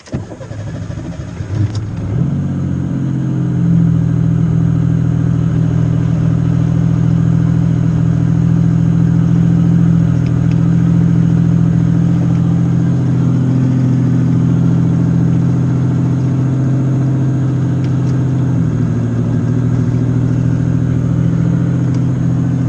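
A 1986 Pontiac Fiero GT catches after ignition repairs and settles into a steady, loud, extremely high idle, a constant close engine drone with a slight dip in pitch near the end.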